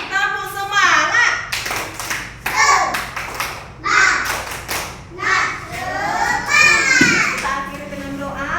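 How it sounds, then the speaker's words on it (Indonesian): Children in a classroom perform a rhythmic clapping chant, claps landing in patterned bursts mixed with loud group chanting of young voices close by. "Tepuk satu, tepuk dua, tepuk semangat."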